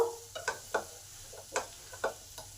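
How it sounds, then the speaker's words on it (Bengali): Potatoes tossed with ginger, cumin powder, chilli powder and garam masala are stirred in a pan. A quiet frying hiss runs under a series of irregular scraping, clinking strokes about half a second apart, with no voices. "এই সমস্ত মশলা আলুতে দিয়ে ভালো করে একটু নেড়ে নেব"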